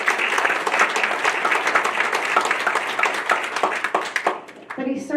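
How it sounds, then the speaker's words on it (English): An audience at a board meeting gives a round of applause, sustained dense clapping that fills the room and then breaks off abruptly near the end as a voice begins speaking. "all of us to give a round of applause to Mr. Temple for his leadership in correcting this long deferred maintenance"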